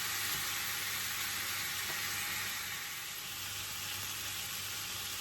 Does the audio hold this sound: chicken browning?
yes